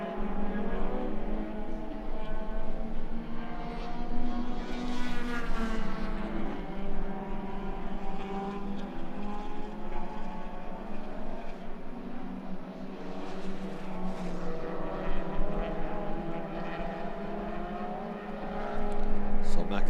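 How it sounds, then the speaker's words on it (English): Race cars including a Toyota Celica and a Honda Civic EP3 circulate on track, engines droning with rising and falling pitch as they pass, blended with a commentator's voice throughout. "He's gone straight by that Celica and now chasing down the EP3 Civic"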